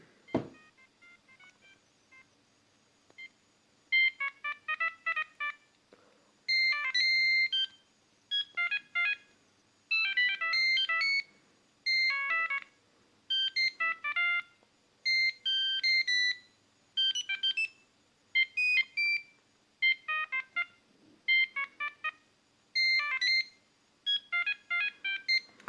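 Siemens C75 mobile phone plays a run of polyphonic EMS and IMY format ringtones, bright synthetic beeping melodies in short repeated phrases separated by brief gaps, loud and close with no talking.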